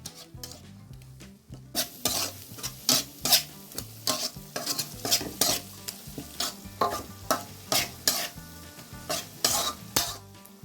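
Spices for prawn malai curry being stirred and fried in a pan: rhythmic, repeated scraping strokes of a spatula over a continuous sizzle, close and loud, with no talking.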